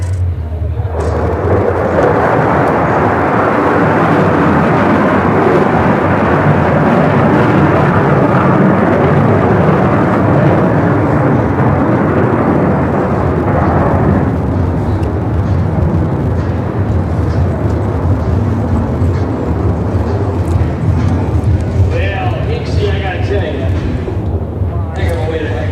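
An F-35A Lightning II jet makes a vertical departure at the Pacific Airshow on the Gold Coast: a loud, sustained roar of engine thunder that fills the whole stretch without letting up.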